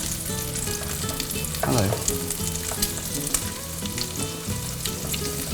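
Pieces of meat sizzle loudly in a pan as they are turned, giving a constant close crackle with scattered pops and a short scraping flip partway through.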